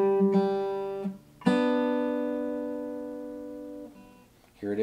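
A fingerpicked guitar chord pattern rings out in a few plucked strokes, each note sustaining and slowly fading, alone without talk.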